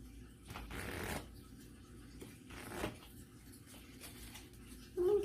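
Chakra cards for a tarot reading being shuffled by hand in a few soft, brief rustling bursts, close and quiet, with a voice briefly heard at the end.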